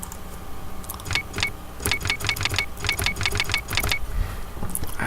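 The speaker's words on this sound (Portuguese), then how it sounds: "Agora digitar meu nome." A run of quick keyboard clicks at a PC, clustered in an uneven burst of about a dozen presses, heard over a steady low hum in a quiet room.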